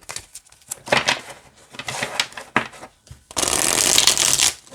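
Rider Waite Smith tarot cards with glossy, sturdy cardstock being shuffled close up: rapid riffling flutters and soft slaps in short bursts, ending in a longer continuous riffle, with no talk.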